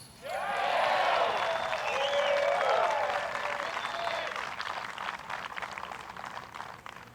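Applause and cheering from a Friday gallery at a disc golf tournament after a putt, rising quickly with whoops, then gradually fading over several seconds.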